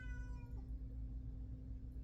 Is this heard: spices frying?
no